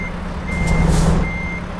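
A truck backing into a parking spot in American Truck Simulator gives a steady high-pitched reversing beep, repeating with even gaps over a low idling engine rumble.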